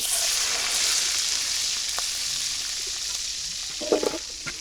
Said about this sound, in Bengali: তেল গরম হয়ে গেছে আমি চিংড়ি মাছগুলো দিয়ে দিলাম